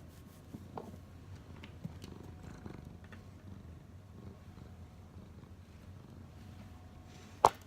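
A cat purrs softly and steadily up close, with faint rustles and a sharp brief tap near the end.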